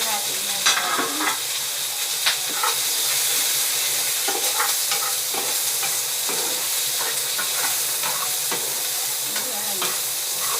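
Chopped onion and garlic sizzle and crackle steadily in hot oil for a budget monggo and chicken bopis dish, with scattered stirring clinks and scrapes close by, continuous throughout and no talking.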